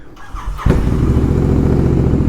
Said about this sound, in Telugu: ఫైనల్గా అయితే అన్న బండి అయితే స్టార్ట్ అయిపోయింది.